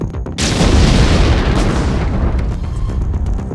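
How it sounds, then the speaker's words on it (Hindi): A motorcycle packed with explosives detonates in a sudden loud blast that rolls into a long, rumbling roar, slowly fading over several seconds, in West Bengal. "विस्फोटक से भरी एक मोटरसाइकिल में जोरदार धमाका हो गया"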